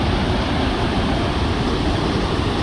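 Victoria Falls in Zambia roaring from a distance, a loud, constant broadband rush of falling water with a wind-like hiss, unbroken and without voices.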